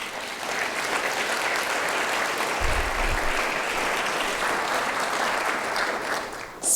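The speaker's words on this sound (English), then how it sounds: "I think it deserves a round of applause." Sustained applause from a civic audience at Cupertino's 2017 State of the City address, a steady dense wash of many hands clapping throughout, with a brief low thump partway through.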